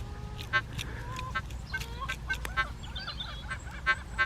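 Several sharp, nasal seagull calls ring out in short bursts, some repeated quickly, over a low rumbling background, in Gloucestershire, UK.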